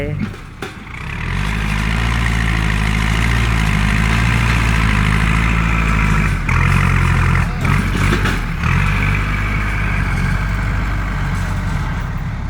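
Farm tractor engine running steadily, a loud, low, continuous diesel rumble that holds level for most of the time with brief dips, close by.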